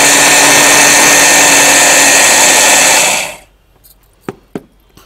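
A mixer grinder jar grinds sugar and other ingredients with a loud, steady motor roar. It cuts off after about three seconds, then a few sharp knocks of the jar follow in near silence.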